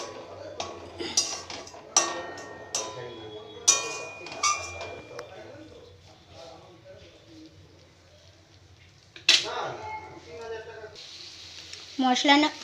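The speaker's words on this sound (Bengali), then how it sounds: "জলটা দিয়ে 2 থেকে 3 মিনিট আমি কষিয়ে নেব মশলাটা, যাতে টমেটোটা আরও ভালো করে সেদ্ধ হয়ে যায়" Spice paste cooked down with water and chopped tomato in a pan for a vegetarian papad dalna, giving soft sizzling under sharp clinks of a spoon against the pan, with louder scraping bursts near the end.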